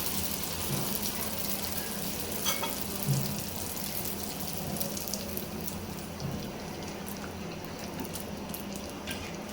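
Oil pitha, puffed cakes, fry in hot oil with a steady soft sizzle and bubbling throughout, faint and even, with a few light clinks near the start and no voices.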